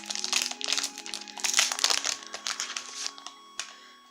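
Foil wrapper of a Final Fantasy trading card booster pack being torn open, a close, loud run of crinkling and crackling bursts that thin out toward the end, with no talking.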